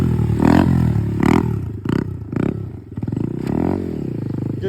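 A motorcycle engine revving in repeated bursts during a circle wheelie, the throttle blipped on and off in an uneven rhythm, close and fairly loud with no talk.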